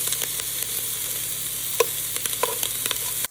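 Meatballs browning in olive oil in a pan, a steady close sizzle broken by a few sharp clicks and scrapes as they are turned, no voices.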